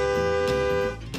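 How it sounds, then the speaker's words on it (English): A vehicle horn at a rural Louisiana outdoor spot sounds one long, steady, loud honk lasting about a second, then stops. "Give me a honk, Jackson."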